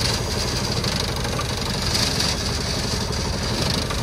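A curb and gutter extruder machine runs its engine steadily, a loud continuous mid-to-low rumble with a fine knocking vibration and no breaks, heard alone.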